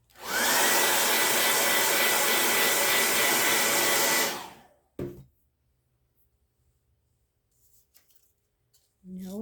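A hair dryer blasts loud and steady for about four seconds while drying a St. Patrick's Day paper craft project, then cuts off, followed by a knock and faint handling sounds.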